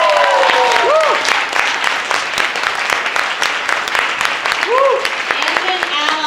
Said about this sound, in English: Let's give another big round of applause, not only to CRTC,